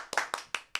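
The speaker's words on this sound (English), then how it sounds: "Let's clap for that." Four crisp, close hand claps in a quick, slightly uneven rhythm, brief and alone with no talking.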